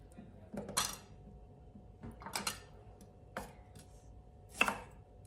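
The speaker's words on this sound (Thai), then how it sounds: "แล้วก็หั่นเป็นแบบ ชิ้นหนา ๆ ก็ได้ค่ะ" A knife chops shallots into thick pieces on a cutting board in a few separate bursts of quick cuts, close and fairly quiet, with pauses between.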